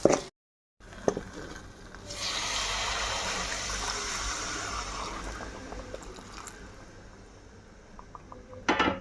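Hot water poured with a few pinches of salt into a pan of vegetable curry simmering in oil: a steady rushing, hissing pour lasts several seconds, then gradually eases, with light clinks of utensils at the start and end.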